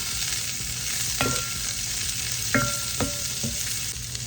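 Vegetables sizzle steadily in coconut oil with ginger in a pan, a continuous close hiss broken by a few sharp scraping stirs of a utensil.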